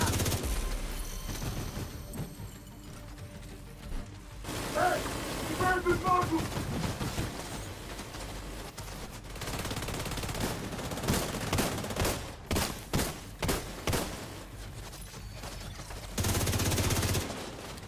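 Gunfire in the shooter game The Division 2: loud, rapid volleys and clustered bursts of shots, broken by brief lulls, with the firing stacking up densely near the end.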